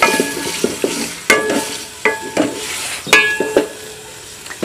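Onions sizzle in a pan while a spoon stirs them, giving a steady frying hiss broken by sharp scraping knocks and clinks against the pan, close and loud with no talk.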